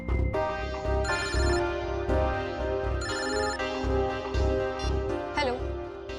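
A telephone rings in repeated electronic bursts, loud and close, with a steady rhythmic ring pattern filling the scene.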